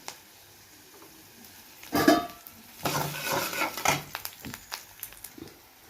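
Tempering spices sizzling in a pan for mango pulihora, with quiet crackle and a few louder bursts of stirring and utensil clatter in the middle, otherwise faint.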